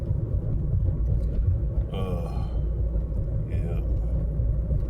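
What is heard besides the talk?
car driving, interior road rumble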